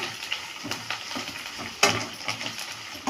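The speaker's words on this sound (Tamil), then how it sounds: "இப்போ நல்லா வறுத்து கொடுத்துக்கோங்க" Onion, curry leaves and coriander frying slowly in a pan, a steady soft sizzle with scattered stirring scrapes and a sharper clatter partway through.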